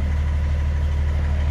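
A BMW X5 E53 3.0d diesel with an upgraded twin-outlet exhaust idles with a steady, deep, even burble, close and loud with no voices.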